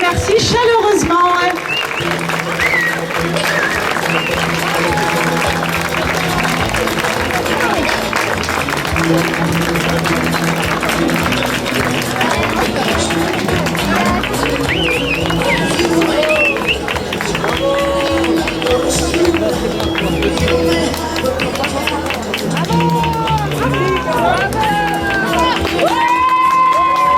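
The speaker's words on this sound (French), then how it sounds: "Je vous invite à les applaudir fort pour leur présentation." An audience at a candy shop fashion show claps and cheers steadily and loudly throughout, a dense crowd roar with whoops and children's shouts over a voice on a microphone.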